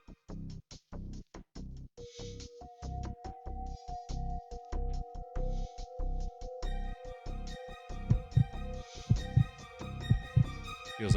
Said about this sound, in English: Hear the roar of my heart pounding noisily in my ears.